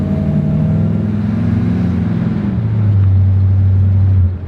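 A Chevrolet El Camino's engine accelerates with a deep, loud rumble, its pitch climbing steadily and then settling into a strong, even drone near the end, heard alone without talk.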